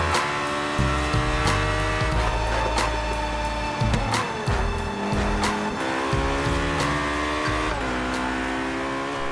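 A Pagani Zonda and a McLaren race in Forza Horizon 3, their engines roaring loud and steady over a music bed, with tires squealing and gear changes shifting the engine pitch throughout.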